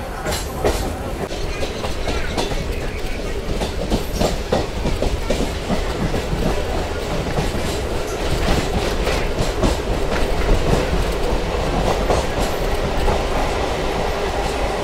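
A MEMU passenger train on the Mysuru–Bengaluru line rolls steadily along the tracks, with rhythmic clickety-clack from the wheels over a loud, continuous rumble throughout.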